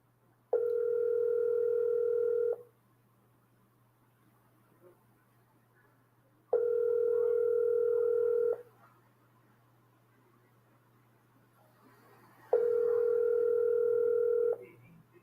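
Ringback tone from a telephone while calling a number: three steady two-second rings spaced about four seconds apart, loud and clear over a low constant hum, with no talking.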